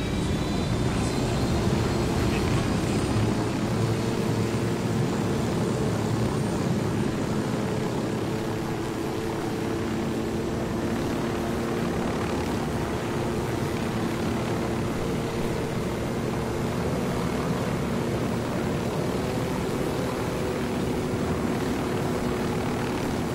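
Helicopter flying in Ghost Recon Wildlands, a steady loud droning engine and rotor hum holding an even pitch throughout, with no voices.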